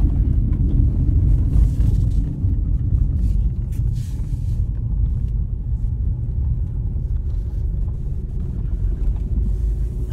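A car driving along a dirt road, heard from inside as a steady, loud low rumble with constant road and engine noise and no clear voices.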